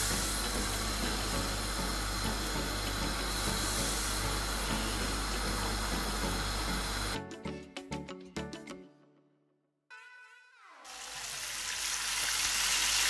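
Starch-coated chicken wings frying in hot vegetable oil make a loud, steady broadband sizzle that breaks off partway and then swells back up strongly.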